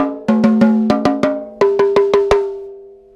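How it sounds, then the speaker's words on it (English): Rototoms on a 1973 Ludwig vintage kit in Blue Oyster Pearl, struck in two quick runs of ringing, pitched hits, close and alone, each run settling on a steady tone. "So I've had these rototoms since high school, and they still sound okay."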